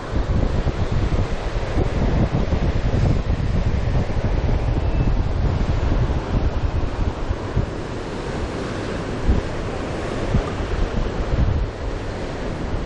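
Constant wind and rolling surf at Tugun Beach on the Gold Coast, a loud, dense roar of breaking waves with wind buffeting the microphone throughout, no voices.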